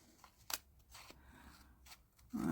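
Scissors cut through paper scraps close by in a few quiet, separate snips and slicing strokes, ending with a louder rustle of paper being handled.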